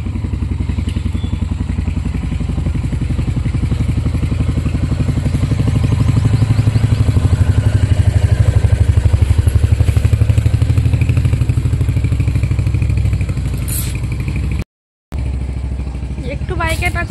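A motorbike rides along with a loud, steady, rumbling engine drone close by, its pitch swelling slightly mid-way, with clattering thumps, a brief dropout near the end and faint voices over the noise.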